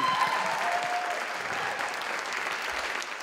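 An audience applauds at an arts center's 80th birthday evening celebration, a steady sustained wash of many hands clapping, heard from within the hall.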